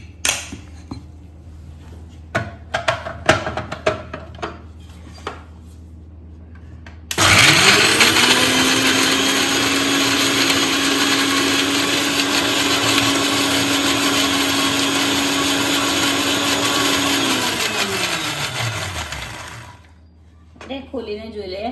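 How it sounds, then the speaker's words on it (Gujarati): Kitchen mixer grinder whirring as it grinds chutney ingredients with water for vada pav, a loud steady motor drone lasting about twelve seconds, preceded by light clatter and handling sounds. "હવે આપણે આને મિક્સરમાં પીસી લઈશું."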